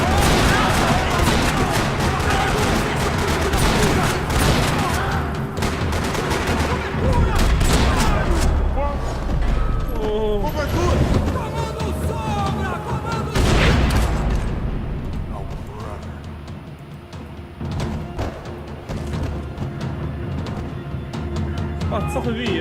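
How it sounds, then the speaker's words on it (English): Dense video-game gunfire rattles through a parking lot in Max Payne, bursts of shots and booms piling up continuously and loudly, with a voice speaking amid the shooting. "Another parking lot rattling with gunfire"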